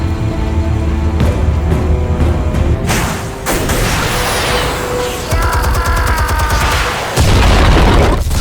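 Armed explosives detonate in a Batman video game, loud and close, with a series of booms, crackling bursts and rumbling debris over several seconds and no talk.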